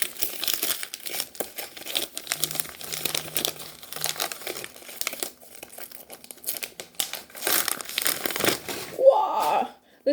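Heavily taped book packaging crinkles and tears close by as it is unwrapped, with someone talking over much of the rustling.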